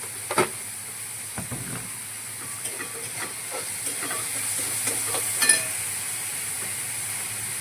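Onion fries with a pinch of salt in a pan, a soft, fairly quiet hiss with intermittent scrapes and light taps of a spoon, no talking.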